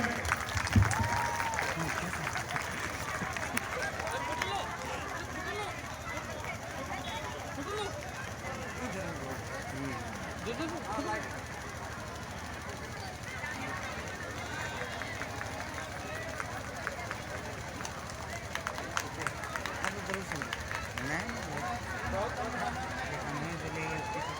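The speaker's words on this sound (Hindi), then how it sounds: "हम चाहेंगे कि सभी को एक बार जोरदार ताली पीकर इनका स्वागत करें" A crowd at a Sarna prayer gathering in Chainpur applauds loudly and steadily with dense, sustained clapping, while a voice carries on over it.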